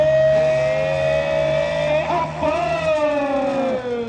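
A close, loud tractor engine revs hard, its droning pitch climbing and wavering as a tractor races past at full throttle in a timed tractor race on a ground.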